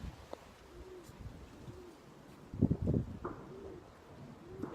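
Doves coo softly in a house, low, repeated, rounded calls at moderate distance, with a brief louder rustle or flutter in the middle against a quiet background.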